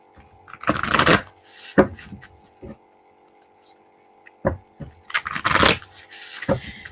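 Two quick riffle shuffles of tarot or oracle cards come in bursts of rapid fluttering, with taps and pauses between them, close to the listener.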